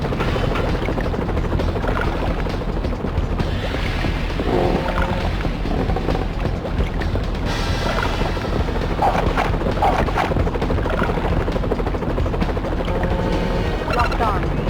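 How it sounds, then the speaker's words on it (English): Helicopters roar and whir constantly in the PS1 game 007: The World Is Not Enough, a dense, loud rotor drone mixed with booms and game effects, with a voice over the top. "use your rocket launcher to take down the helicopters"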